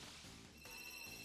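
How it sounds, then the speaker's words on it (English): A phone rings in the background, a steady tonal ring with repeating harmonic lines that holds through the short moment, faint and somewhat distant. "My phone was ringing."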